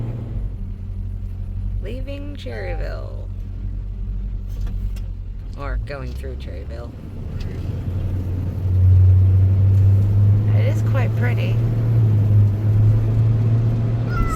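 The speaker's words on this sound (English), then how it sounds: "Sorry it's bumpy. This truck is kind of jumpy." A truck driving a bumpy road out of North Carolina through Cherryville, with a steady low engine and road rumble that swells louder partway through, heard under a person talking.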